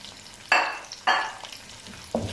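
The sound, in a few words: frying salt and chillies with spices for mutton pulao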